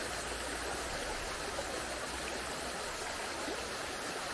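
A constant, rushing wash of the Zeta river in Montenegro flowing fills the scene, steady and fairly close, with no voices.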